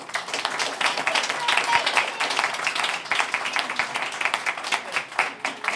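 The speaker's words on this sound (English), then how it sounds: "we're going to give you a big round of applause" A crowd at a city board of aldermen meeting gives sustained applause after a proclamation, dense clapping filling the room with voices mixed in.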